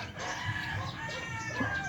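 Chickens clucking and calling close by, a steady run of hen and rooster sounds with no talk over them.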